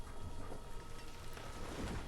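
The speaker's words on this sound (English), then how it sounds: "and it's raining" Steady rainfall in the video game Banished, a soft continuous patter with faint low rumbles, heard alone with no voices.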